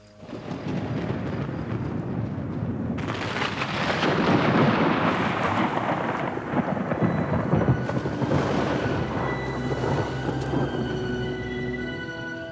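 Hailstorm with thunder in the Tibetan snow leopard country, a steady roar of pelting hail and rain that swells after a few seconds, with low rumbling thunder underneath and no voices.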